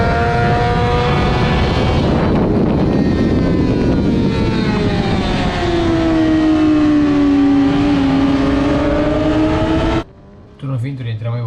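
Racing motorcycle lapping the Mugello circuit, its engine loud and close as it screams and revs with the pitch rising and falling through gear changes, then cutting off abruptly near the end.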